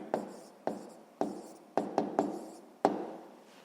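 Pen or pencil strokes scratch across paper while working a sixth-grade maths equation, about seven short bursts at uneven intervals, each fading quickly, close and fairly quiet with no talking.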